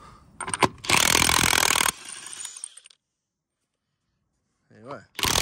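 A DeWalt power tool spins a lug nut off a trailer tire, loud and whirring in a sustained burst of about a second, then trailing off into silence before another short burst starts at the end.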